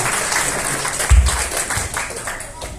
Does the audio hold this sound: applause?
yes